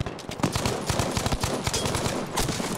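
Rapid, sustained gunfire in Battlefield 5 during a North Africa incursion battle, dense overlapping automatic bursts and shots cracking continuously at close range with no voices.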